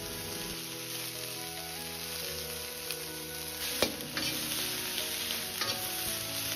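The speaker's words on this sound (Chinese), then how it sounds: "一定要通过小火这样慢慢的煸炒" Cauliflower slowly stir-fried over low heat in a wok without blanching, giving a soft steady sizzle with occasional scraping clinks from the spatula, fairly quiet and close.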